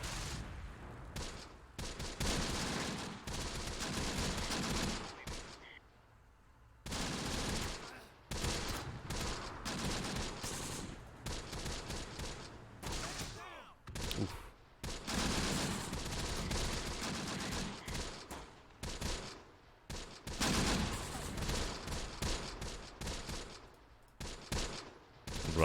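Heavy gunfire and machine-gun bursts rattle almost continuously through a battle in the WWII tactics game Close Combat: The Bloody First, loud and dense with only brief lulls between volleys.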